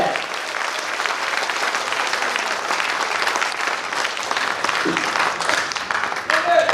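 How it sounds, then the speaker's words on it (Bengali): An audience applauds at an anniversary ceremony, sustained dense clapping filling the room at an even level from start to finish. "ইঞ্জিনিয়ার আহমেদ মুশফিক আলম স্যারকে করতালির মাধ্যমে আমন্ত্রণ জানাচ্ছি আজকের অনুষ্ঠানের সমাপনী বক্তব্য প্রদান করার জন্য। করতালি চলবে"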